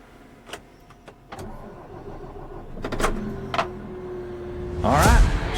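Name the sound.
wheel loader engine starting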